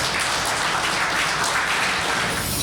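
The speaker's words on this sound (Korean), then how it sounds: "장관님을 큰 박수로 맞이해 주시기 바랍니다" Steady, dense audience applause fills a hall at an energy policy forum as a vice minister is welcomed to speak, a loud, even clapping that holds throughout without voices.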